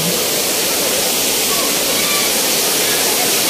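Waterfall crashing near Tanay, Rizal, a loud, steady rushing hiss of falling water that fills the whole moment without a break.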